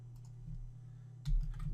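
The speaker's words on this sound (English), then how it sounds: "what I want to do is type out all those words" Keystrokes on a computer keyboard while typing out words, a few light clicks scattered over a steady low hum, with a louder bump of activity near the end.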